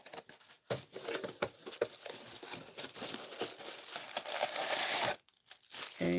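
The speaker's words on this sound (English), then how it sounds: "And open this box." A small parcel box with paper inside is opened up close: rustling cardboard and crinkling paper with scrapes and taps, moderately loud and irregular, ending in a brief sharp tearing burst.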